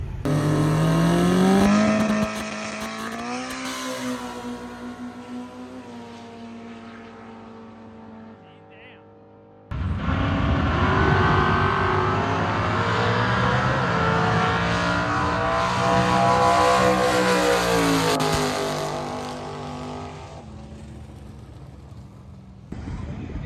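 A 1000 hp K24-engined rear-wheel-drive drag car revs hard and launches down the strip, its loud engine note climbing through the gears, cutting briefly, then screaming on again under excited voices.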